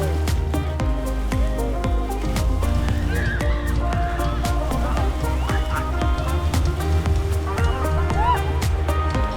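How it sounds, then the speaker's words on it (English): Horses at a cold-water charity plunge event, whinnying and neighing amid a dense, loud crowd din with hooves clopping throughout. "I like the horses."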